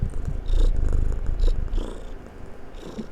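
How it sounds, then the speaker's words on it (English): A cat purrs steadily up close, a low rumbling hum that swells and fades with each breath, with faint brief noises over it. "Can you hear my cat purring, guys?"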